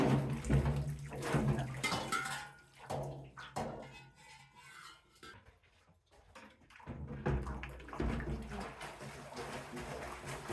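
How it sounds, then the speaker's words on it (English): Sink water running and splashing as a milk strainer and bucket are rinsed in sanitizing water, bursts of gushing flow broken by a quieter gap, with clunks of handling. "I use that water to rinse off the strainer and my bucket."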